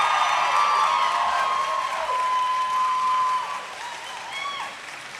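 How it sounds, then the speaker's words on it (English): Graduates at a Peterborough convocation ceremony give a loud, sustained round of applause to their supporters, dense clapping that swells and then gradually thins out toward the end. "I would just ask the graduates to give a round of applause to their supporters and the crowd."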